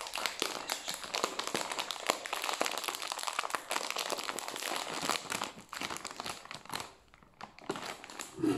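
Crinkling of a bag of potato chips: close, continuous crackling and rustling plastic with sharp crisp bursts, pausing briefly near the end before resuming.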